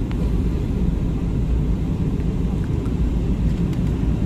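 Steady, loud low rumble of an airliner cabin during descent toward West Sumatra on a flight from Jakarta to Padang, continuous and unbroken, with a faint higher hiss above the drone.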